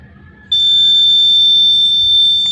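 The buzzer of a homemade ultrasonic-sensor security system sounds a loud, steady, piercing electronic tone that starts abruptly and holds without a break, over a faint background hum.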